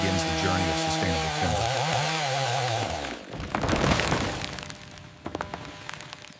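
A chainsaw fells pine trees, its engine droning close and loud with shifting pitch for about three seconds, then the saw cuts out as wood cracks and breaks, followed by scattered snaps.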